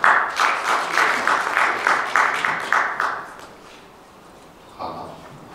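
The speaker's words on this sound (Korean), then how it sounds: "박수 부탁드리겠습니다." Audience at a public-sector solutions conference session claps for an incoming presenter, a loud, rhythmic burst of applause that fades out after about three seconds, followed by a brief quiet sound.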